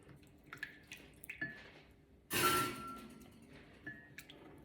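Melted butter poured into water while making lamingtons, heard as a brief splashy pour in the middle amid small drips and clinks, quiet and close with no talk.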